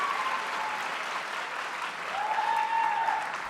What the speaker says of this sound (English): How about another round of applause for Victoria?